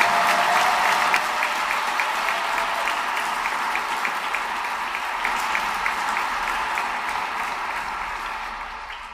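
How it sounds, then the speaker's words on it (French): Congregation in a church clapping during an Easter Sunday service, a steady, dense wash of applause that holds evenly for about nine seconds and fades slightly toward the end. "Applaudissons Jésus encore."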